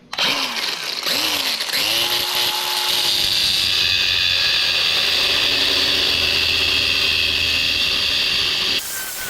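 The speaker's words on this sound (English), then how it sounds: "Drill some holes in there." A power drill spins up in short bursts, then runs steadily with a high, grinding whine as it bites into the metal spine of a bandsaw mill, stopping abruptly.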